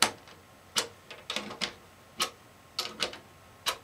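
A tuning key turning on a Deering Goodtime banjo, giving a string of small, sharp ticking clicks in irregular groups. The clicks are close and quiet over a faint hiss.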